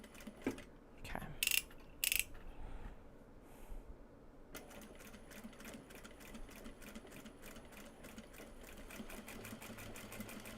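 A sewing machine set to a basting stitch length sews slowly along a seam in an upcycled obi sash. A few clicks and handling knocks come first, then a steady, rapid mechanical stitching rhythm runs to the end.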